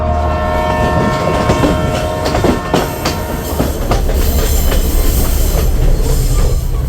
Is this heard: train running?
yes